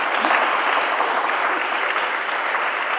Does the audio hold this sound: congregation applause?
yes